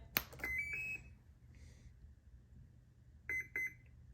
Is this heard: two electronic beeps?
yes